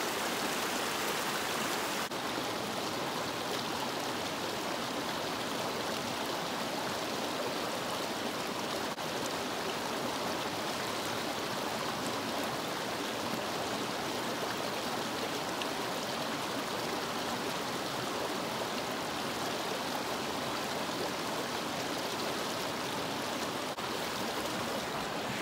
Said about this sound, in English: Here's a little brook here.